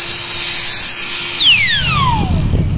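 A Euro Griffin 180i Turbo Jet mini blower, a 2,000-watt battery unit, blasts water off wall switches. It starts with a loud, steady high whine, then the pitch drops as it spools down, leaving rough airy rushing.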